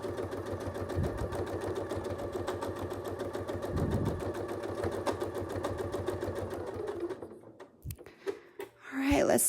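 A sewing machine runs steadily as it stitches a quilt along existing stitch lines, a fast even rhythm holding for about eight seconds before it slows and stops near the end.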